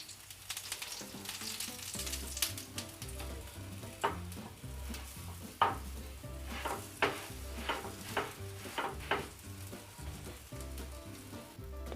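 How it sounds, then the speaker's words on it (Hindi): A potato cheese paratha roasting in ghee on a hot griddle, with a steady sizzle and a run of spatula scrapes and taps repeating in the second half, under a low background hum. "इसे भी हम अच्छे से सेकने देंगे। और दोस्तों साइड में हम थोड़ा थोड़ा घी डालते रहेंगे।"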